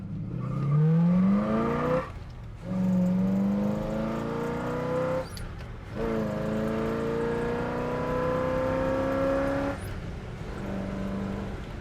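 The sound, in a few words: 1967 Pontiac GTO accelerating through the gears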